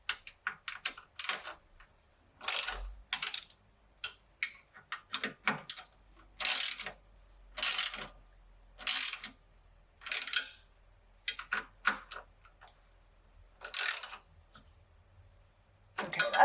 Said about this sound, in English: tighten up the nut and the bolt. And I'm gonna kind of go back and forth just until they're snug